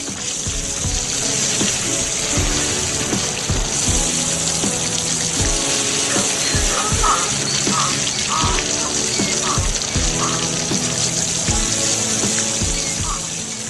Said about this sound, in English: Watch closely as the water mist falls over the orchard